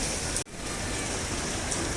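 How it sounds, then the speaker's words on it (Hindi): Rain falling steadily in Kuta, Bali, a dense even hiss of drops on surfaces that carries on without a break, with a short dip in level near the start. "यहाँ से बारिश स्टार्ट हो गई है, काले काले बादल।"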